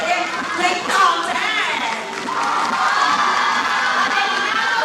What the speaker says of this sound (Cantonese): 再俾一次熱烈嘅掌聲